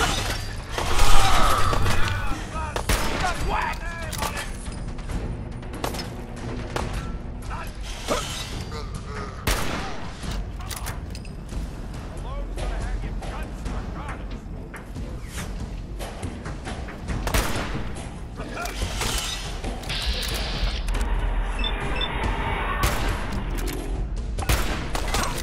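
Sustained rifle gunfire in the video game Fallout 4, dense rapid bursts of shots with mechanical clanks and impacts running throughout, loud and continuous with little pause.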